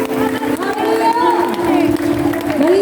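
Church congregation at a Filipino choir worship event clapping and cheering loudly, with steady applause and raised voices filling the hall, a leader shouting praise over the crowd.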